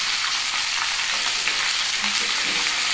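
Ginger paste sizzles hard in a hot pan while khichdi is made, with a loud, dense frying hiss up close and faint stirring scrapes scattered through it.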